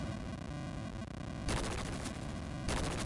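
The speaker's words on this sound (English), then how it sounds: "The game ends with an explosion." A loud, dense burst of crackling game explosion noise from the video game The Messenger, harsh broadband blasts that surge and return in waves over steady tonal game music, with no talking.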